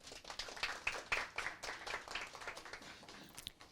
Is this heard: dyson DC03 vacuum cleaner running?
no